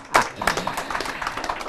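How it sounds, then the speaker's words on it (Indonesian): Brief scattered clapping from an audience at a Javanese cultural gathering, a sharp opening clap followed by uneven, moderate hand claps with voices mixed in. "Ya, tepuk tangan."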